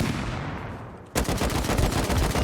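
Thompson submachine gun firing in a video game, a loud sustained burst of rapid automatic shots following a quieter, fading stretch.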